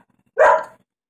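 A dog gives a single short, sharp bark, close and loud, in an otherwise quiet room.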